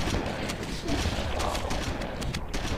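Rapid gunfire in Halo, a dense continuous crackle of shots at steady loudness throughout, with a voice faintly underneath.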